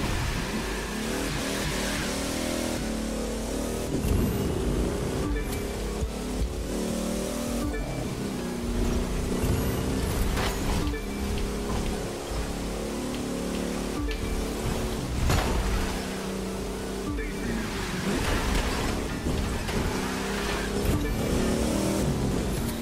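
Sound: Plymouth car engine in video game The Crew 2

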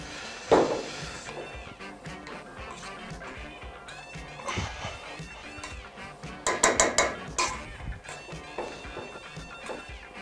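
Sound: mashing food into a smooth purée

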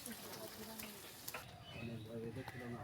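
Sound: fish frying in oil in a pan

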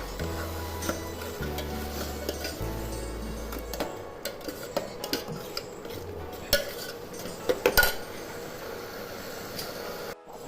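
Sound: stirring sweet masala corn in a pan

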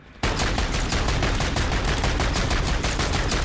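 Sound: gunfire in Modern Warfare Zombies video game

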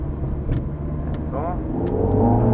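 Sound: Ferrari F430 engine accelerating

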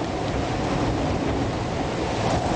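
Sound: gale wind and waves at anchor in False Bay

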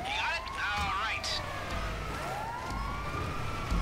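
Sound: ambulance siren in the video game GTA

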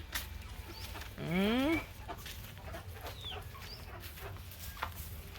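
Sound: chicken clucking

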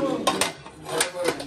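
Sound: cooking pot being handled

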